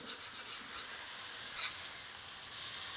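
Chopped meat and roasted pepper sizzle and get scraped across a hot griddle, a steady loud hiss with a brief harsher scrape swelling midway, no voices.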